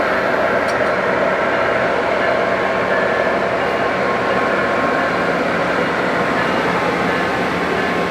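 A Metrolink train at Moorpark station, a steady broadband rumble and hiss of the train holding loud and continuous throughout.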